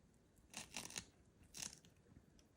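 Scissors cutting soft sponge rubber for a ping pong paddle around the racket handle: several crisp snipping bursts in two clusters, quiet and close, with no speech.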